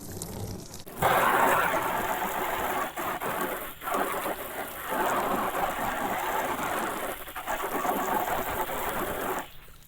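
Water sprays steadily over a car panel to rinse off iron remover used against rail dust and rust spots, a dense hissing splash that swells and dips as the stream moves, loud and close with no talk.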